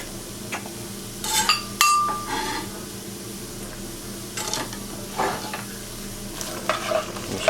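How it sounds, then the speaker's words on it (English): Garlic stirred into melted butter in a pot for buffalo chicken soup, with a soft continuous sizzle under intermittent scraping and a few light clinks of the utensil against the pot, heard up close. "I'm just going to mix that around, get the garlic in there, get everything coated in the butter."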